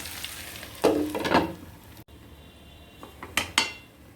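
Okra and spring onions frying in a pan, a quiet, close sizzle with bursts of stirring and scraping from a utensil, plus a few sharp clinks against the cookware.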